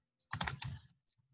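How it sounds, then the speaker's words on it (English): A brief quick burst of a few keystrokes on a computer keyboard, close and quiet, lasting well under a second with no talk. "then I can start typing away."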